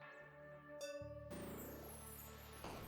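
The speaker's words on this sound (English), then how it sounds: "That bell is rung." In a video game, a single bright bell-like chime rings out and sustains, with a ringing tone over soft in-game music, quiet and clean with no talk.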